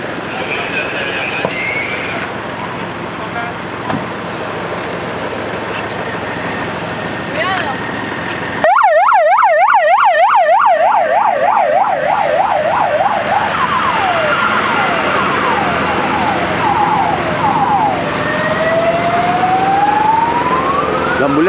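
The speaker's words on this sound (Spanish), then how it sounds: "Ambulancia ya parte rumbo al hospital." An ambulance siren starts abruptly and loudly, its rapid wail alternating up and down before shifting into slower sweeping tones as the vehicle pulls away from an accident scene on a highway toward the hospital.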